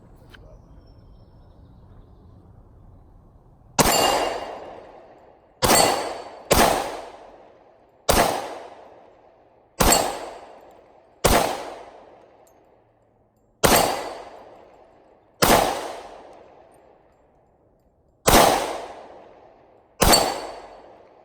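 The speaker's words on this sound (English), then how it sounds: "right now we got that 170 grain PPU 10mm ammo. Try it out." A Gen 2 Glock 20 pistol fires 170 grain PPU 10mm rounds outdoors: ten loud, sharp shots at irregular intervals, each trailing off in a brief echo, with no voices.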